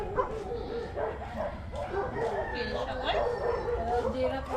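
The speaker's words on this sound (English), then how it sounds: "It's an example of the wild dog pecking order around here" Wild dogs yip, bark and whimper in a scuffle over a pecking order, a mid-distance chorus of overlapping yelps under a steady outdoor background.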